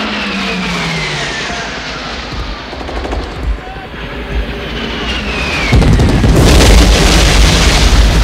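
Explosions and gunfire rumble loudly in an Apocalypse Now war scene, with heavy booms, rattling machine-gun bursts, descending whistles and a surging roar near the end, talk mixed in.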